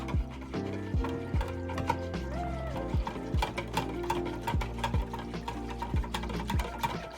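A gelatin dessert mixture being stirred to break up lumps, a utensil scraping and tapping the bowl in a quick regular rhythm, faint and close, over soft background music.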